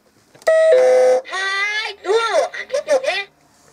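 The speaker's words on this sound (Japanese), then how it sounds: "呼び鈴を鳴らしてみるね。" The doorbell on an Anpanman toy activity board rings out a loud electronic chime, followed by a cheerful toy voice speaking in short bursts.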